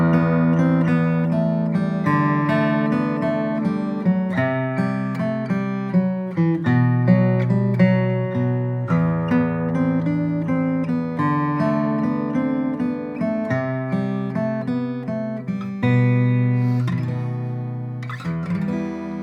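A Spanish melody is played with the thumb on a Cirillo Master's Choice guitar, with steady plucked notes ringing over a continuous accompaniment, close and even in volume throughout.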